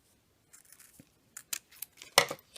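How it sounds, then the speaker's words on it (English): Scissors cut through the fold of a ribbon in a few close, sharp snips and rustles, ending with one louder cut. "For this ribbon, I'm just going to cut off the fold."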